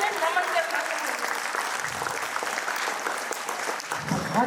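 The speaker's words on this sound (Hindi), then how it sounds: "उन्होंने गाया और तालियां आपसे निकली" Sustained audience applause in a hall at a celebratory event, a dense, even burst of clapping that carries on steadily, with voices mixed in beneath it.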